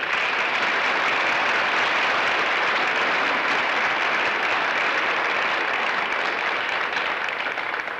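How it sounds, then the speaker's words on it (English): Steady, continuous applause from a concert audience for the accompanists at a high school choir spring concert, even and unbroken throughout. "let's give our accompanists a round of applause"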